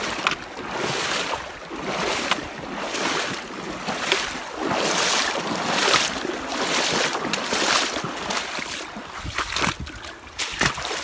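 A strong river current rushes around a hiker wading knee-deep on a backpacking trail, a loud continuous wash of churning water with repeated splashing surges throughout.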